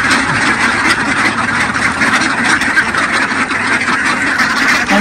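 Around 1,400 ducks on a duck farm keep up a loud, continuous chorus of overlapping quacks close by, with a faint engine hum underneath.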